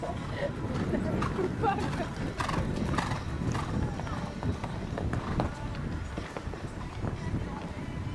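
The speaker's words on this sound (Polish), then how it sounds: "tu Państwo widzą, że koń skacze bez najmniejszego problemu" Horse hooves at a show jumping competition, a dense run of clip-clop hoof beats with a horse whinnying, heard amid crowd babble and an announcer's voice.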